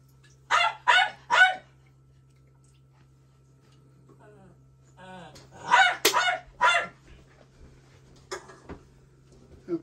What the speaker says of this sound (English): My dog's happy.